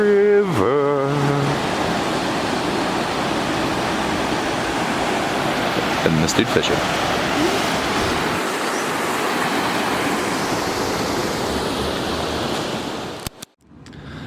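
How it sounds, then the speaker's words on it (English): A rushing river at a campsite keeps up a steady, loud broadband roar of churning water throughout, with a brief voice near the start and a couple of short clicks and bumps toward the end. "It is a raging river. A babbling brook, so to say."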